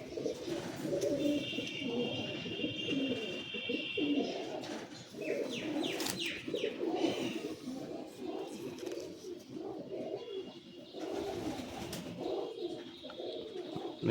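A flock of imported Pakistani Madrasi Giribaz pigeons coos continuously in a loft, with low throaty burbling throughout, occasional chirps, and a brief flutter of wings.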